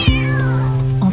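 A kitten gives one clear, loud meow close by, rising then drawn out with a steady tone before tapering off, with nothing else heard.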